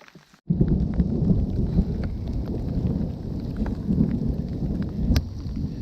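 Thunder rolls and steady rain during a thunderstorm in an Australian forest, opening with a sudden loud burst after a brief quiet moment, then sustained rumbling and patter with wind buffeting the microphone.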